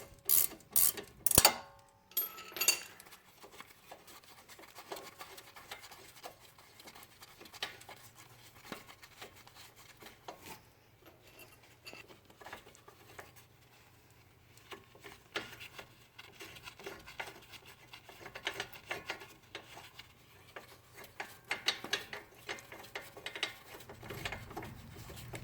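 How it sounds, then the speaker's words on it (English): During front brake replacement on a Suzuki Kizashi, a ratchet wrench turns a bolt with quiet, repeated clicking bursts under faint workshop clatter, opening with a few sharp close knocks. "this is where the ratchet wrench comes in handy"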